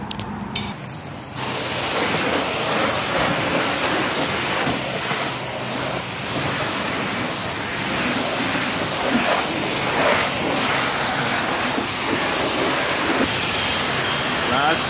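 A car wash rinse wand sprays water over a car at a cheap $3 self-serve bay, a steady loud hiss of pressurized spray running continuously after a brief quieter start.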